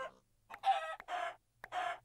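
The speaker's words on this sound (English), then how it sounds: "You can now shear chickens." Short clucking calls from a chicken in Minecraft with the Quark mod, three distinct bursts a fraction of a second apart, clear and near with no talk.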